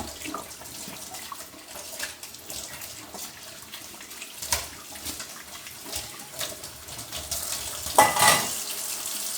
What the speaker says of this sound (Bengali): আগে বাটিটা ধোয়া নিই, যেহেতু একটা খাবার।